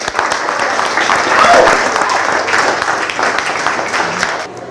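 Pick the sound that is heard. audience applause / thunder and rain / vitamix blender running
audience applause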